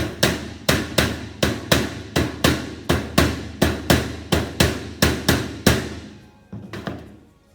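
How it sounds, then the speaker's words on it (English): A rubber mallet beats lead sheet flat over a joint with about fifteen loud, evenly spaced thuds, followed by a few softer trailing blows. "use a rubber mallet to smooth out the lead on your joint"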